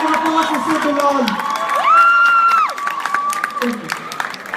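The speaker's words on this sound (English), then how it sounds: "Please give a huge round of applause for Sir Bilal." A school audience at an A level student event cheers and whoops for a sports teacher, a crowd roar with shouts rising over scattered clapping while a voice carries through the noise.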